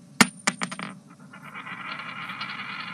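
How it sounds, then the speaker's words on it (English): A coin is tossed and lands on a hard surface at a battle rap event, with a sharp metallic strike, several quick bouncing clinks and a fading shimmering ring, close and clear. "Loud ass coins, man."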